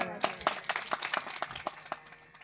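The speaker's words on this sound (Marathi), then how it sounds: "यांसाठी मला तर वाटतं पुन्हा टाळ्या वाजाव्यात" Audience clapping at a Maha Shivratri kirtan, a burst of scattered hand claps with uneven rhythm, moderately near and fading toward the end.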